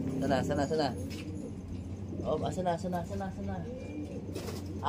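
Birds coo and chirp nearby while a person talks over them, the calls rising and falling in short bursts.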